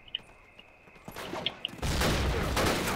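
Scattered gunshots pop at first in the video game Call of Duty: United Offensive, then a burst of heavier firing and a loud blast fill the last second with dense rumbling.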